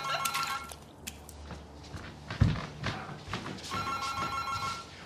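A telephone bell rings in a home in repeated bursts, fairly close and moderately loud, with a few soft footsteps and small bumps in between.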